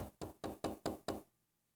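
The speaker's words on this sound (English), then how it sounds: "Nightshade knocks on Fidget's bedroom door." Six firm knocks on a bedroom door in a castle, evenly spaced and close, each ringing briefly before silence follows.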